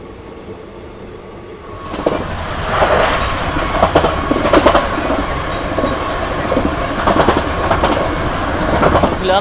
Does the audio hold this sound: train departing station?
yes